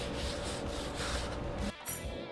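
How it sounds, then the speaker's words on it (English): Oil being rubbed into a hot Blackstone griddle during cleanup, a continuous close rough scrubbing hiss that drops out briefly near the end, with no speech. "I'm just going to rub some of this oil in."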